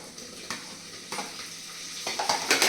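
A spoon stirs pieces of elephant foot yam in a pan as they are sautéed for sambar. Soft scraping strokes repeat over a low sizzle, close by and quiet.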